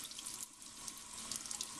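Tap water runs steadily into a sink, a faint, close, continuous splashing hiss with small bubbly spikes.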